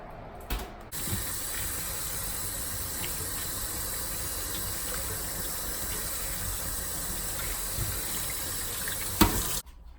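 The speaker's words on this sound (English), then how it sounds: "First, of course, you wanna make sure that you are washing your pickles." Cucumbers for pickles are washed under running tap water, a steady close hiss of flowing water that lasts throughout, with brief clunks as the tap starts and stops.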